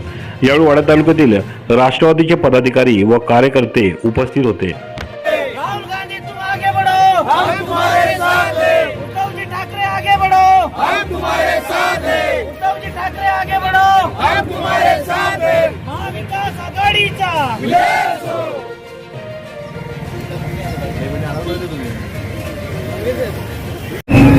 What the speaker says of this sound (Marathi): राष्ट्रवादीच्या कार्यकर्त्यांनी मोठा उत्साह व जल्लोष साजरा केला